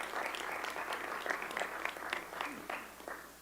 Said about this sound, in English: So a big round of applause for our finalists.